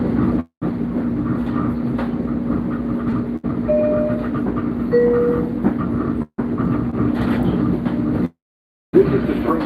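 A commuter train runs on rails toward Woodside, with loud, steady rolling rumble and clatter. A few short dropouts break it, and faint brief tones sound partway through.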